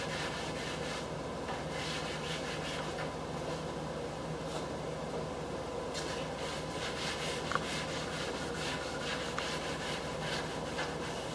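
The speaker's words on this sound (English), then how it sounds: "Some rag, get you some water, try to clean off the excess glue" Damp rag rubbing and wiping over wood to clear excess glue on a DIY 5x10 teardrop camper build, a steady close scrubbing texture with faint workshop hum and no talk.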